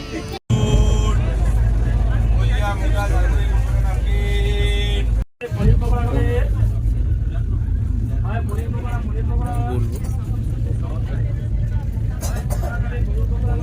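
The Puri–Shalimar Dhauli Express running, heard from inside an AC chair car coach, with a loud, continuous low rumble and rattle of the moving train and people talking throughout.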